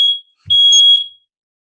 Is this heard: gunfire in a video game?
no